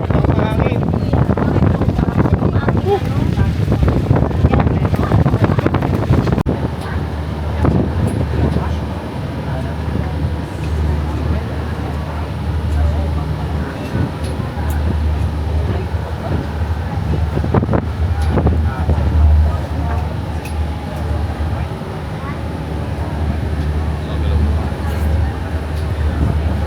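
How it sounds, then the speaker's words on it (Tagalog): Strong wind at Boracay island buffets the microphone with heavy low rumbling gusts throughout, loudest at the start. "Lakas ng hangin, sobrang lakas ng hangin."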